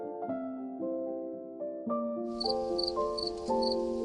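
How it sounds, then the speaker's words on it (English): Jungle insects set up a high, rhythmic chirping that comes in partway through, pulsing steadily over a soft sustained tonal bed at low volume. "insects screaming."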